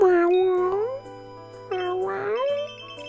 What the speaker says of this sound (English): It's my cat.